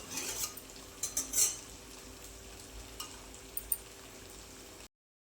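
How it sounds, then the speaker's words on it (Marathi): Masala for cashew curry being sautéed in a pan over low heat, with a few sharp clinks and scrapes of a spoon stirring against the pan over a faint background hiss, no voices. "मसाला आपल्याला तेल सुटेपर्यंत छान असा परतून घ्यायचा आहे कमी गॅसवरती मसाला छान शिजला पाहिजे"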